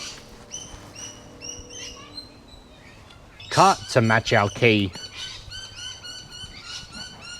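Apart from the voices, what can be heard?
birds chirping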